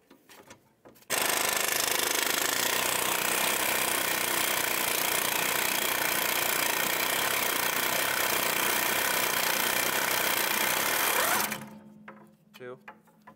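Impact wrench removing bolts on the rear hub of a Chevrolet HHR during a brake job, one loud, steady, rattling hammering run lasting about ten seconds, close by, with faint clicks before and after.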